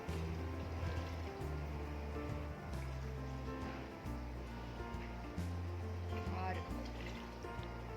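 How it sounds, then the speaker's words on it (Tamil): Water pours into a cooking pot for home-style chicken biryani, a steady splashing fill heard faintly, with some brief clatters along the way. "அப்புறம் இப்போ தண்ணி ஊற்றிட்டுருக்கேன்"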